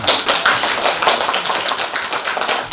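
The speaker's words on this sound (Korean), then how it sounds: "박수 한번 치시고" An audience at a social workers' day ceremony claps along with an instructor, giving rapid, dense, loud hand claps for nearly three seconds.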